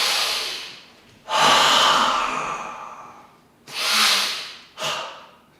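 Deep breaths heard close up, with a long drawn inhale followed by slow exhales and a final shorter breath, airy and loud against near silence.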